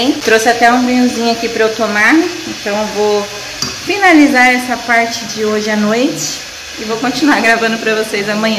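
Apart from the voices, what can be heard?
chicken frying in a pan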